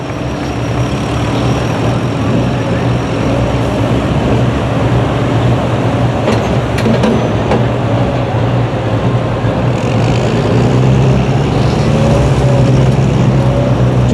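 A pulling truck's engine roars at a truck and tractor pull, a loud, steady, droning rumble held at full power for the whole stretch, with no talk over it.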